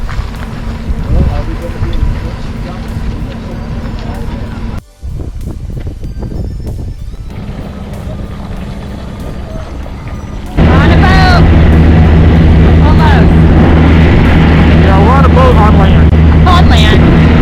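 An amphibious duck boat on a ride toward Iceland's largest glacier, with steady engine rumble and heavy wind buffeting the microphone, growing much louder partway through as voices talk over it.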